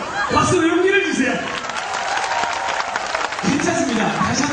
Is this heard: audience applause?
yes